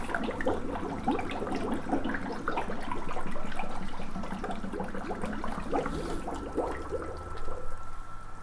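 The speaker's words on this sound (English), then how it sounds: "there's lots of bubbling sounds obviously, but it's a good sign. It means that the water is getting inside." Water gurgles and bubbles steadily as an Eheim Experience 250 canister filter fills and primes, a busy, close trickling churn with irregular pops that swells briefly midway and then eases.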